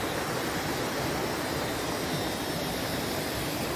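Hin Lat mountain waterfall on Koh Samui, Thailand, gives a steady, even rush of falling water, a broad continuous wash with no voices over it.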